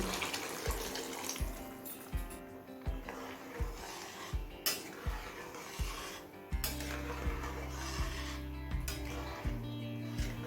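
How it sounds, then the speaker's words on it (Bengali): Hot water is poured into a pan of chicken ghugni with peas. Scraping and clinking against the pan come first, then a steady pouring stream takes over in the second half. "এবার কিছুটা পরিমাণ গরম জল দিয়ে দিচ্ছি"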